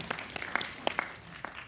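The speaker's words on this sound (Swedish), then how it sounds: "jag tycker ge er själva en applåd redan så här i början av dagen" Sparse, scattered claps from an audience at a conference on children and youth, a handful of distinct hand claps spread over under two seconds rather than full applause.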